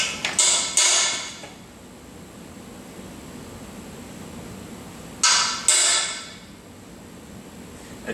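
Two separate bursts of sharp metallic hammer strikes driving a freeze plug into an engine block, each a quick cluster of three or four hits, with a quiet stretch of background noise between them.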